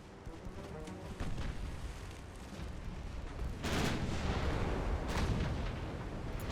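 Heavy 9-inch naval guns fire in the Ultimate Admiral naval warfare game, a steady rumbling barrage with a loud burst of booms midway and another surge near the end, no talk.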